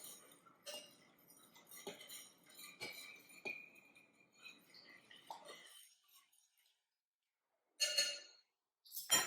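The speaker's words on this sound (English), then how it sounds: "I'm going to stir this around a little bit." Homemade cleaning solution with peppermint oil being stirred in a glass bottle: a run of light, quick clinks and taps, close and quiet, stopping into near silence before two brief bursts of handling noise at the end.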